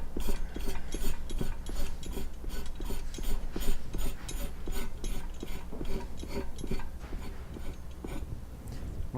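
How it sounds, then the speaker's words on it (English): A hand tool scrapes and rasps against the rubber inner surface of a tire being repaired, a rapid series of close, gritty strokes with a steady rhythm that runs throughout, with no voices. "We're going to scrape it"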